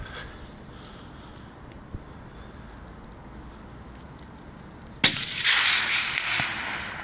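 A single hunting rifle shot cracks out loud and close during a hunt in an outdoor setting, cutting through quiet ambient background, followed by a lingering rumbling echo that rolls away over the landscape.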